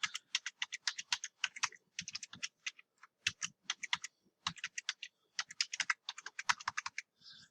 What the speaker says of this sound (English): So I'll type in the password.